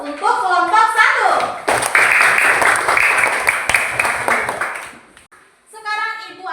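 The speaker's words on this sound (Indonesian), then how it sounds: "mari kita beri aplaus untuk kelompok 1" Children applauding a class group: a teacher's voice, then a burst of clapping from many small hands with some kids' voices, fading out before the teacher speaks again.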